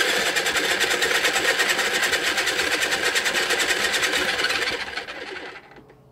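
A small spinner motor whirs steadily while spinning a ribbon pour painting, a loud buzzing hum that holds even for several seconds before fading out at the end.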